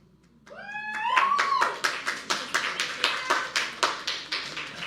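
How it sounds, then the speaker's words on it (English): An audience claps at a talk, a run of about a dozen distinct, fairly quick claps that follows a rising tonal sweep, close and moderately loud in a quiet room. "Not sure why you're clapping for that"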